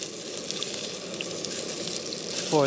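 Sausages sizzling in a pan on a camping stove outdoors on a breezy day, a steady close frying hiss that runs unbroken and alone.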